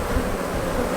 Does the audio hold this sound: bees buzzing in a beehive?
yes